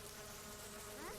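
Flies buzzing around overflowing trash in The Sims 4 game, a steady close insect drone lasting just over a second, heard alone without talk.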